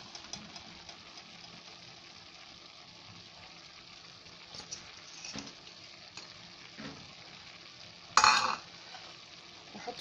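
Onion and garlic frying in a pan for seasoning minced meat, a steady soft sizzle with occasional stirring scrapes, close by, with a brief louder clatter near the end and no talk.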